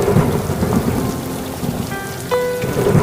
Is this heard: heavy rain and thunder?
yes